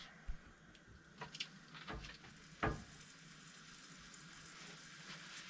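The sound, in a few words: steak sizzling in pan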